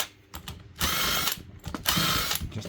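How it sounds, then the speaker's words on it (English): Screws come out of an RCD circuit breaker during scrap metal recovery. Two close, loud bursts of ratcheting, whirring driver noise are separated by short gaps with a few small mechanical clicks. "Just undoing all the screws to"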